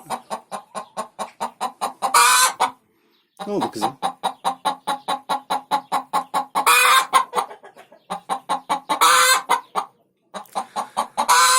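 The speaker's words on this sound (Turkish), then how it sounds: "Tavuklar yumurta yaptıklarında bu gıdaklamalarının sebebi arkadaşlar ben yumurta yaptım arkadaşlar etrafını duyuruyor" Hens cluck in rapid, insistent bursts after laying eggs, close and loud, with brief pauses between runs; a person speaks briefly partway through.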